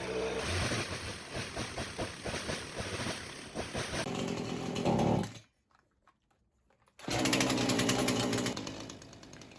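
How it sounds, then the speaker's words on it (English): A chainsaw engine runs loud and steady with a rough, buzzing idle, then cuts out for about a second and a half before roaring back. "I will start out by turning on the chainsaw so the engine can warm up to operating temperature"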